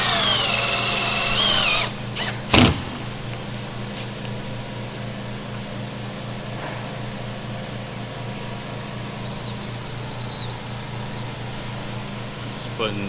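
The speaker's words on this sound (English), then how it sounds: "Just putting tin shed screws in her." A power driver runs tin shed screws into a truck outdoors. A brief loud bang comes early, then a thin high-pitched whine as the screw is driven near the end, over a steady engine hum.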